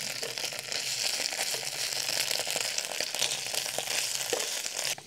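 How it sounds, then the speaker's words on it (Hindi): Ginger garlic paste sizzling and frying in a pan at a forest campsite, a steady dense crackle with occasional stirring clicks, close and continuous throughout. "अदरक लहसुन पेस्ट डालने का। फिर से थोड़ी देर फ्राई करूँगा।"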